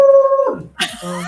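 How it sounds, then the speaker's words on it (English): Pet dogs at home let out a loud, close howl that breaks into whimpering yips, a short burst of about a second. "Oh, sorry. My dogs."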